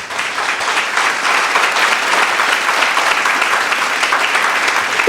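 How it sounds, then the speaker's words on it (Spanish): A church congregation applauds loudly and steadily, a dense wash of clapping that holds level for several seconds with no talk over it. "Dale un aplauso grande al Rey."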